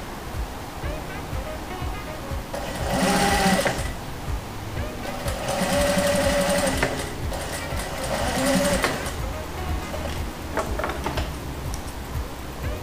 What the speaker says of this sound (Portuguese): Agora eu vou dar um retrocesso.